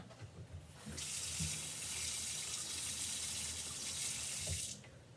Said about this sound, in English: let's run this over the faucet, under the faucet